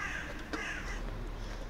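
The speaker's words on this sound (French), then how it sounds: "Les Corneilles qui connaissent Monsieur Sojo." Crows caw outdoors, with one sharp call standing out above a constant background rumble.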